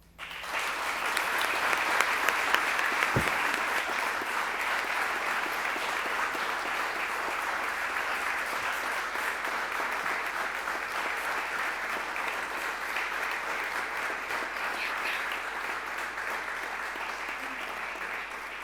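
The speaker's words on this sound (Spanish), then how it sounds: "la verdad que Carmen se merece muchos aplausos" Sustained applause from an audience at a recognition ceremony for Spanish diplomats, a dense, steady wash of clapping lasting the whole stretch with an early crisp peak and no talk over it.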